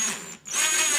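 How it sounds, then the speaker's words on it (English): Power drill whirring steadily as it drives into a wooden clothespin, a continuous close, high-pitched tool whine with a brief drop in the middle before resuming. "be careful drilling those down, especially with power drills"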